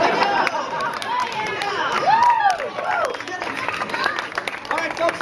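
A street-show crowd at a juggler's act claps and cheers in a steady outdoor patter, with chatter and voices rising over the applause throughout.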